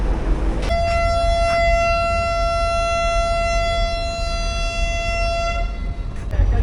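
A passenger train's long steady horn-like whistle blares at Karachi Cantt station, loud and close, holding one tone for about five seconds over a continuous rumble of station and engine noise before cutting off.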